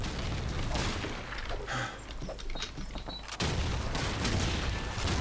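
Call of Duty 2 battle gunfire with dense, overlapping rifle shots and booms over constant combat noise, loud and sustained, with a sudden heavier burst near the end.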